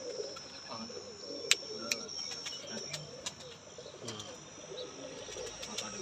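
Sialkoti pigeons coo softly in a breeder's loft amid a dense bed of low murmuring calls, with a few sharp clicks or wing flaps standing out and faint insect-like chirping behind.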